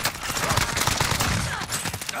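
Rapid gunfire in the online shooter Warzone, dense overlapping bursts like a firefight crackling steadily throughout, with no clear gaps and no talk over it.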